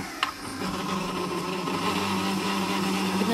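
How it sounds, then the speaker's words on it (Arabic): An electric mixer whirs steadily while blending cream for a Russian honey cake, a continuous motor hum that starts after a brief click and keeps running at an even, close-up level throughout. "هلا بنشغل الخلاط عشان يندمجوا سوا."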